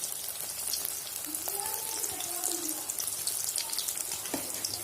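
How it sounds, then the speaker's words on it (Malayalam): Soya chunks deep-frying in hot oil over a medium flame, a steady close hiss of bubbling with a few faint clinks and scrapes, no talking. "ഇത് അതുപോലെ തന്നെ നമുക്കൊന്ന് വറുത്തെടുക്കാം"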